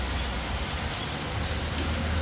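Hail pounds a house roof in a dense, continuous roar of impacts, loud and unbroken, with no voices over it.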